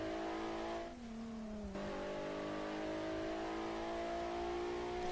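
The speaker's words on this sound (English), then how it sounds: "3, 2, 1, and we're off in the Nissan." A Nissan GT-R accelerates in a Garry's Mod street race, its engine note climbing steadily and loudly with a brief dip as it shifts, then pulling on with a rising, sustained drone and no talking.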